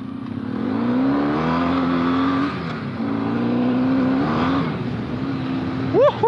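An off-road motorcycle ridden on frozen winter trails revs hard and close, the engine climbing in two strong surges with a brief dip between, then a short sharp blip at the end.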